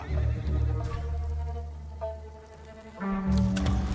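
A horse in the video game Ghost of Tsushima whinnies loudly twice, a long neigh at the start and another near the end, with faint clopping hooves underneath.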